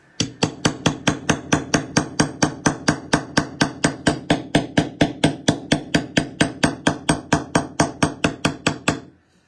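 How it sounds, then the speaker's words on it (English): Steady, rapid hammer strikes on heavy gauge wire over a metal bench block, about three per second for nine seconds, loud and close with a bright ring and no talking. "So let's do a little hammering."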